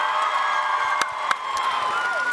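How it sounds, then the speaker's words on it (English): A convention panel audience cheers, whoops and claps at TwitchCon Amsterdam, a dense sustained roar of many voices filling the hall, with a couple of sharper claps standing out. "So few things get a round of applause for he's a terrible person"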